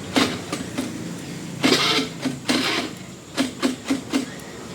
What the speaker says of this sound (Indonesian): Kalau untuk suara mesin sih aman aja sih, tidak ada apa namanya suara aneh-aneh, maupun juga di bagian CVT-nya.